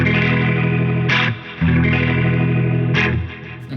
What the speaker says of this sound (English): You can see this rotator effect. Gives you kind of a organ type of sound.